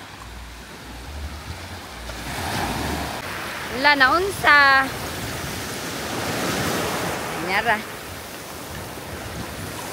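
Sea waves wash steadily onto a beach in the Philippines, a continuous broad surf roar with some wind noise, while people talk briefly over it.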